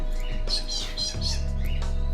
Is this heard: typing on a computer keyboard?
no